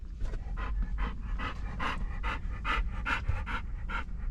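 Dogs panting rapidly inside a car, about a dozen quick rhythmic breaths heard close and fairly soft over a low engine rumble.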